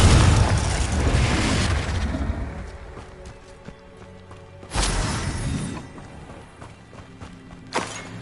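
A Confringo fire spell going off in Hogwarts Legacy on PS5: a loud opening blast fading into rumble, then a second sharp burst mid-clip and a smaller thump near the end.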